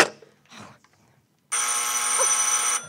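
An old telephone bell rings once, a bright, sustained metallic trill lasting over a second, in a radio drama. A few faint vocal sounds come first, then a near-silent pause before the ring.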